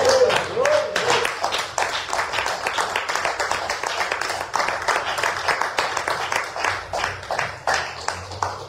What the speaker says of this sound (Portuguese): Bate palmas ao Senhor Jesus.